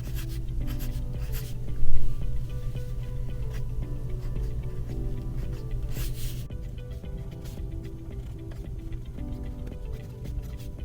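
A Magna Carta Mag 600 flex nib fountain pen scratches across paper in short strokes, a close, quiet, steady writing sound with a louder scrape near the start.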